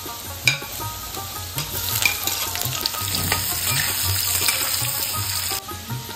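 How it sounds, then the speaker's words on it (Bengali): Potatoes and radish frying in oil for a Bengali tyangra fish curry, a steady close sizzle with occasional stirring clinks and scrapes, no talk. "আলুটা ভাজা ভাজা হয়ে গেছে, এবার মূলোগুলো একটু ভেজে নেব এর সাথে।"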